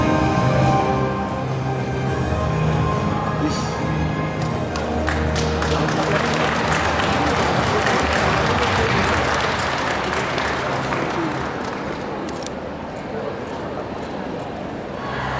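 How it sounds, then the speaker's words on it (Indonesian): Loud, sustained applause from a seated audience greeting the acting mayor of Malang at the opening of a tobacco-product cigarette-rolling training event, steady clapping lasting throughout and fading slightly near the end. "Boleh berikan tepuk tangan yang meriah Bapak Ibu hadirin sekalian"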